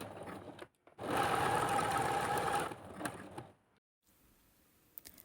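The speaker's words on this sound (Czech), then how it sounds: "Přiložíme ji a uděláme zajišťovací steh malým cikcakem." A sewing machine runs a small zigzag securing stitch on bra shoulder-strap elastic, one steady loud burst of about a second and a half, followed by a shorter run and then quiet.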